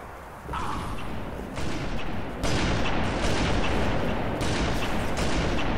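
Sniper rifle fire in a Halo 3 Team Snipers match, loud sharp reports breaking over dense, continuous game noise, with several heavy shots landing in quick succession.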